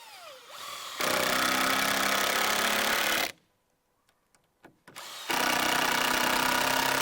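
A power drill drives 2.5-inch decking screws into a wooden fence post, with two long, loud steady whirring runs separated by a short near-silent pause with faint clicks.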